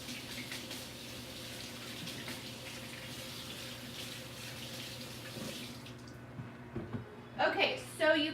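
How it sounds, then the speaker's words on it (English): A kitchen faucet runs steadily while hands are washed at the sink, a low watery hiss under background voices, ending in a few louder splashes and clatters. "I'm just washing my hands over here"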